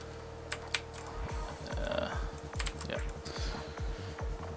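Typing on a computer keyboard, a run of quick, close key clicks in an uneven rhythm over a low steady hum, with a few sharper taps early on and no voices.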